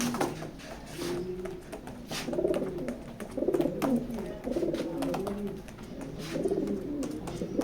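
Racer pigeons coo in a loft, several overlapping soft, throaty rolling calls repeating close by, with light rustling and shuffling around them.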